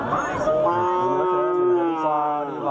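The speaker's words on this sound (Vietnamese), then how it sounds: "Là nhiều người dân đang đem bò đến bán rất là đông." Cattle brought for sale at a busy cow market at the Núi Phìn fair in Đồng Văn district give a long, drawn-out moo that rises and holds, close and loud, over a faint crowd murmur.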